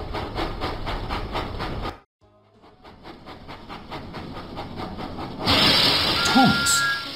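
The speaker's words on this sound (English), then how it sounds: "Thomas puffed proudly into the Sodor Search and Rescue Centre." Thomas the Tank Engine puffing along in a Thomas and Friends video game, steady rhythmic chuffing with hiss under game music, a short gap, then a brighter burst of steam and whistle-like tones near the end.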